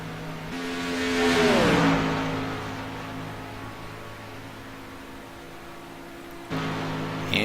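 A race car engine runs against its rev limiter, sweeping past close with a falling whoosh, then holding a steady high droning buzz before another car's engine cuts in loudly near the end.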